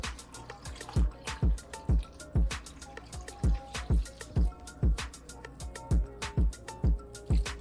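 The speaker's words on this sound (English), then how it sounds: "And this cider is cold, so I'm putting this into a cold pot that does not have any heat on it." Cold apple cider poured in repeated splashing glugs into an unheated pot, a steady rhythm of liquid bursts about every half second, close and clear with no talk.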